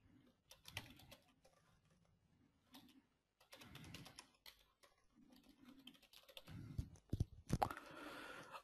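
Someone types into Notepad on a computer keyboard in quiet bursts of light key clicks separated by pauses, ending in a louder run of taps.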